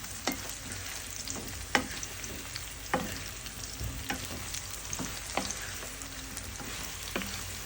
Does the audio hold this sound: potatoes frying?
yes